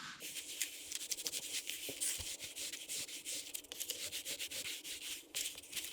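Sheepskin pad rubbing oil into leather during dyeing and antiquing, a steady close soft scrubbing with quick rhythmic strokes, no talk.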